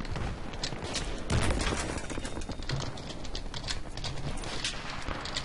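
Rapid bursts of automatic gunfire from the first-person shooter Battlefield 3 rattle on continuously and loudly, dense overlapping shots with no pauses.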